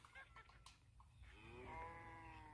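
A cow in Minecraft One Block gives a single drawn-out, falling moo, heard quietly after a few faint background sounds.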